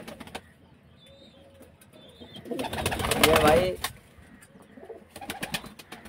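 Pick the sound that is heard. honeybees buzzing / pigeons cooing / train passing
pigeons cooing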